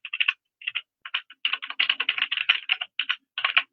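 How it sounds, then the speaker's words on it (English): Fingers tap out a burst of quick, irregular keystrokes on a computer keyboard, crisp clicks close up with brief pauses between words. "now I'm going to type in Google again here"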